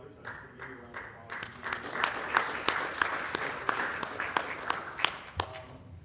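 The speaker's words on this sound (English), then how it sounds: "I just want to give you a round of applause." An audience at a physician-payer quality collaborative meeting gives a round of applause, with a steady burst of close hand clapping that swells and then tapers off.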